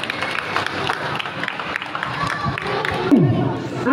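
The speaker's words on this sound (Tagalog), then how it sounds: "Palakpak naman siya." A crowd at a barangay school supplies giveaway applauds and cheers for the donors, a busy mix of clapping and chatter with voices speaking over it.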